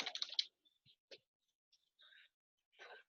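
Faint, scattered keystrokes on a computer keyboard, with a short cluster of clicks at the start and then a few isolated taps in a quiet room.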